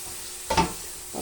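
Sotanghon guisado sautéed in a pan, a short burst of stirring and sizzling, close and brief, over quiet background hiss.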